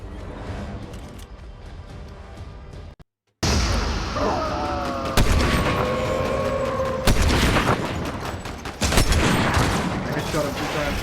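Gunfire in a video game: sharp, loud shots and bursts crackle over busy game sounds, broken by a brief moment of silence early on.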